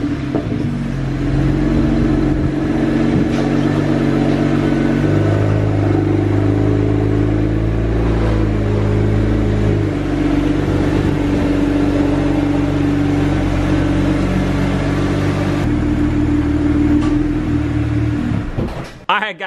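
A BMW 335is with an N54 engine backs out slowly, its low engine rumble and idle drone held steady and loud, with a brief change near the end, while a voice talks over it.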